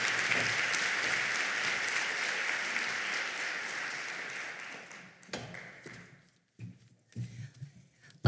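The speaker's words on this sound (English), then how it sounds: "Let's please give another round of applause for Director Wente joining us this morning" A room of advocates applauds Director Wente at a morning advocacy day event, with sustained clapping that fades out and gives way to a few scattered claps and quiet shuffling.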